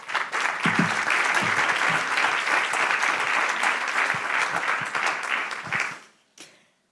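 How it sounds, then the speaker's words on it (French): An audience at a professional conference day applauds steadily for about six seconds, a dense, even wash of many hands that then fades out abruptly, leaving a few last scattered claps. "vos applaudissements seront transmis à Anaïs"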